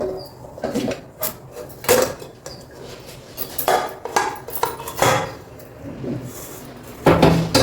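Dibba rotti lifted from a pan onto a plate in a home kitchen: repeated metallic clinks and scrapes of a utensil against pan and plate, irregular, close and fairly loud, with no talking.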